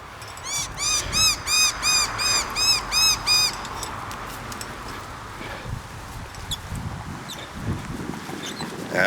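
Magpies call outdoors during a walk, a run of harsh, repeated chattering notes rising and falling in quick bursts for a few seconds near the start, then fading into soft outdoor background with faint scattered rustles.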